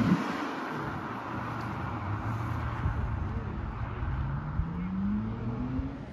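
A 2010 Ford Mustang GT with a 4.6 liter single overhead cam V8 drives off, its low engine note rising steadily as it pulls away, heard outdoors with light wind and steady road noise.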